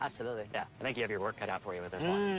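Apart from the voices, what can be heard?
None of the usual background noises is heard.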